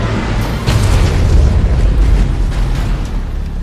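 Deep, rumbling nuclear weapon blast in the C&C: Rivals strategy game, a loud sustained boom swelling after a brief onset and rolling on for several seconds.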